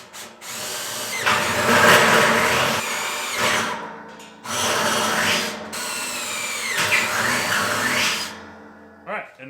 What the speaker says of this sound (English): my exhaust port holes are all drilled